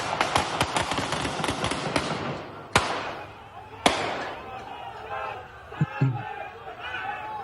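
Sharp gunshots in central Tel Aviv during an attack: a rapid burst of cracks at the start, then two louder isolated shots, all amid crowd noise and voices.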